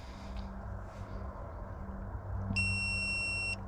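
Electric pruning shears give a sharp electronic beep, then a steady high-pitched tone held for about a second, over a low mechanical hum.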